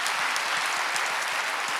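A church congregation at a Wednesday service claps steadily in an even rhythm, a continuous wall of hand claps heard alone, close and loud.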